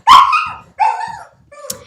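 A pet dog indoors lets out three quick barks in under two seconds. They are loud and close, with the first the strongest and the last higher and yippier.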